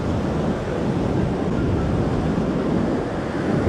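Ocean waves wash beside a beach on a large sand island, a constant loud rushing roar mixed with wind buffeting the microphone, with no talking.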